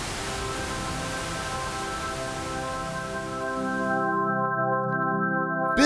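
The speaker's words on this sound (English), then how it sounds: "Bismuth starts organizing all of that white noise into specific bands, which sound musical" White noise passes through the Bismuth resonator plugin, a soft broadband hiss ringing with sustained tonal bands that turn more distinctly pitched and musical toward the end as the noise thins out.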